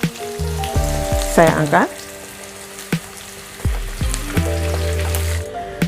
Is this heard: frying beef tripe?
yes